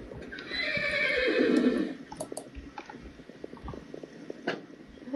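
A horse in modded Minecraft gives a loud, close whinny for about two seconds, followed by scattered light hoof clops and small clicks.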